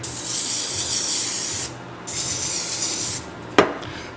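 Two long hissing sprays from an aerosol can of butter cooking spray into a baking dish, close up, separated by a brief pause, followed by a sharp knock.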